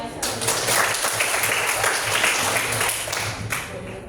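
A classroom group claps during an Indonesian language lesson, steady close applause running throughout with voices talking over it.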